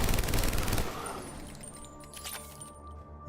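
Dense gunfire from Mass Effect 3, a loud sustained volley of overlapping shots that tapers into quieter battle noise with faint electronic tones.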